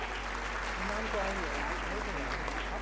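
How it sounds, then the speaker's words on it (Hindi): Applause from an audience at a school annual fiesta in Hisar, a steady wash of clapping with a voice talking over it the whole time. "जोरदार तालियां हो जाए."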